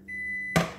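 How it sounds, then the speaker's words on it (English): A microwave oven heating grits finishes with a single sharp completion beep cutting off its steady hum, close and clear with no talk over it. "Microwave's done."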